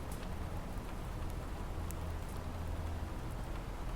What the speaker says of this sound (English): the soft shimmer of rain against the glass